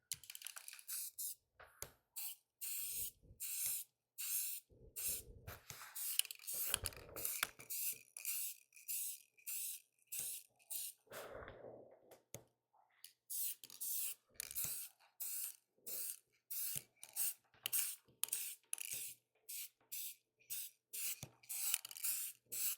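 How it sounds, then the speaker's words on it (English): An aerosol can sprays a decoupage finishing effect coat in a long run of short, sharp hissing bursts separated by brief pauses. The bursts are close, and a few soft handling clicks fall between them. "Now I'm going to go ahead and spray the Mair effect on"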